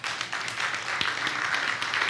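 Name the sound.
congregation applause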